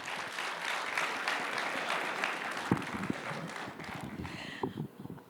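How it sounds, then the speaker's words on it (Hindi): Audience applause at the Samvad 2025 event, a sustained burst of many hands clapping from a crowd that thins and fades toward the end. "तो जोरदार तालियां एक बार बजाइए, जिससे लगे कि आपके बीच शक्तिमान आ गए"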